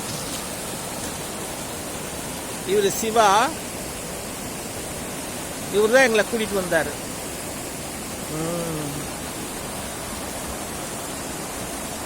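Muddy, rain-swollen water rushes steadily past at Puliyancholai as a continuous broadband roar, while a voice talks over it in short bursts.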